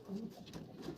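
A pigeon coos softly at a racing pigeon loft, a brief, faint, low warbling call on its own.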